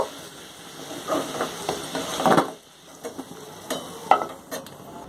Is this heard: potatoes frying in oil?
yes